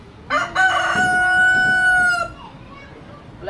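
A startled chicken lets out a loud, close squawking call with a sustained tonal cry lasting under two seconds, standing out over soft background noise.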